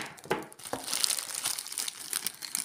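Plastic wrapping crinkling and tearing as a cross-stitch kit package is carefully opened, close, soft irregular rustles and crackles with a few sharper rips.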